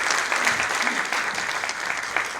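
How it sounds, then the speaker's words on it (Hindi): A crowd at a Hindi poetry recital claps steadily, a dense, even wash of applause from many hands that carries on without pause. "एक बार जोरदार तालियां बजा रहे हैं"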